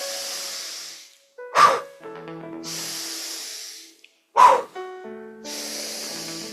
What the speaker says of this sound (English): inhale slowly and with some force blow